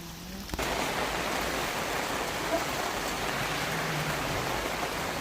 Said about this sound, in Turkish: sağanak yağış var.